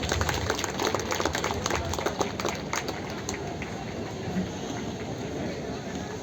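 Audience at a college annual function clapping for the teachers, a dense, loud burst of applause that fades slightly toward the end.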